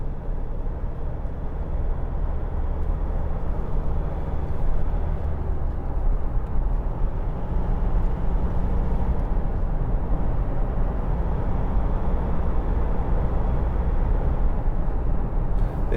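Interior of a 2016 Toyota Hilux 2.5 D-4D Icon double cab pickup on a country drive, with a steady low diesel engine drone and road rumble, constant and unbroken, no talking.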